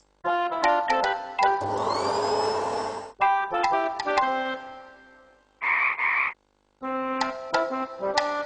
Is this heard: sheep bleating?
no